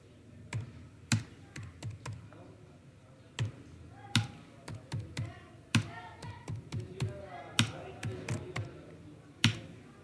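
Typing on a computer keyboard while entering data into an Excel spreadsheet: sharp, close key clicks in uneven bursts with pauses, and a voice speaking quietly between the strokes.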